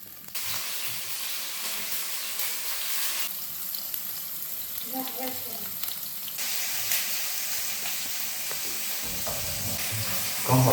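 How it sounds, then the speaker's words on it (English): Tofu cubes sizzle steadily in hot oil in a flat pan, a continuous close frying hiss that swells and eases as pieces are added and settle. "place the evenly cut tofu cubes in the pan and reduce to low heat"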